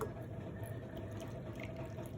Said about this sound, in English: So I'm adding warm water to it.